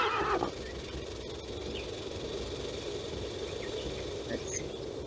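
A horse whinnies in the video game Secret of Shadow Ranch, a short call at the start, followed by a steady outdoor bed of chirping insects and a high whine.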